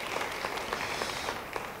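A church congregation claps together in steady, dense applause, heard at a moderate distance and continuing through the whole moment.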